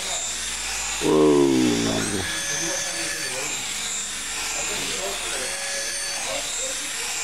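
A $19.95 flying toy's small electric motor switches on with a steady high-pitched whine that holds at a constant pitch, while a voice exclaims briefly over the start.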